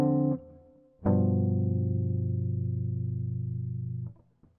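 A chord turnaround on a keyboard: a sustained chord rings out, followed by another held chord that decays slowly for about three seconds before a brief soft note at the end.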